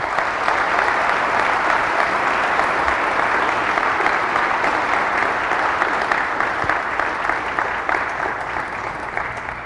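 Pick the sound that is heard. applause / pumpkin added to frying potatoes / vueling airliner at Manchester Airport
applause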